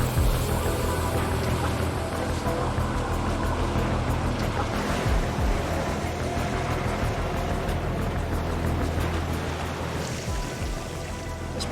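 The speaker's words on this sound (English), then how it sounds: "It's a big, big ocean." Ocean waves wash steadily around a boat at sea, a continuous loud rushing surf with spattering water noise and a low rumble, no voices.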